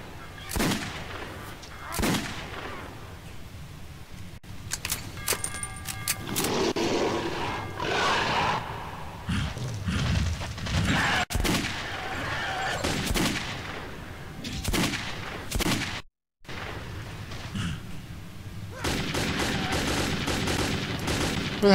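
Gunfire in the Metro 2033 video game, bursts of shots and rapid automatic fire with booming impacts spread across a noisy scene, with brief gaps and a short dropout near the end.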